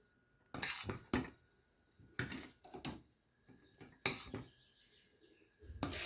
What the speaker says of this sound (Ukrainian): Ось, помішуючи, весь час доводжу до кипіння.